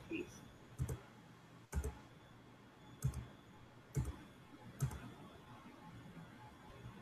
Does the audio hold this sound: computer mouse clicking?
yes